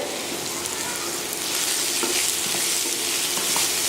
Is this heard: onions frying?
yes